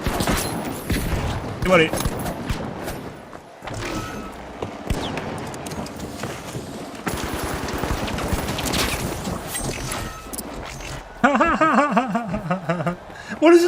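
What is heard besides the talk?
gunfire in the video game The Finals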